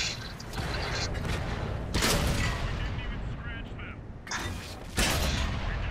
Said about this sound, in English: You're going straight into enemy fire, just so you know.